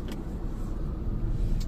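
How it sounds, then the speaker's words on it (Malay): Wind noise inside the cabin of a 2021 Toyota Vios on the move, a constant loud low roar of air and road rumble, steady throughout with no one speaking. "Kemudian bunyi angin yang masuk dalam kabin yang agak kuat."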